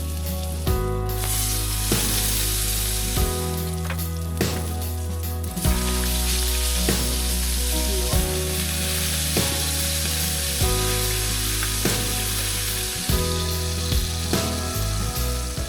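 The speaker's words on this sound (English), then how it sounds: "Gotta get a good sear on the sides." Meat sears and sizzles in a pan with butter, rosemary and garlic while winter camping in a van, a constant crackling fry under music with a steady beat.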